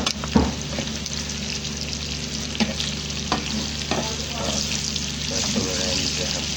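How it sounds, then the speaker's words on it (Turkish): Potatoes and mushrooms sizzle steadily in a frying pan for a homemade mushroom basdirma fry, a continuous loud crackle with occasional stirring clatter. "Bu kartuşkamız pişene yakın köbələğimizi əlavə edirik."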